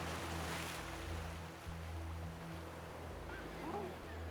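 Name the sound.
ocean waves at a craggy coastal island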